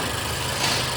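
A Honda engine idles steadily with a low, even rumble, and near the end a slight change in tone marks the AC compressor engaging; no one speaks.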